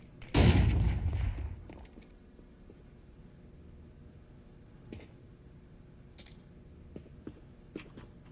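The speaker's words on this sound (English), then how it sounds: "Throwing flashbang." A flashbang grenade detonates in a video game with a single loud, booming blast that rolls off into a low rumble, followed by quiet background and a few faint clicks.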